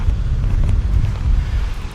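Strong wind buffets the microphone on a sand beach at Carlyon Bay, a steady low rumbling roar that holds loud and continuous throughout with slight gusting swells.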